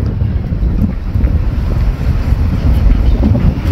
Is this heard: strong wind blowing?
yes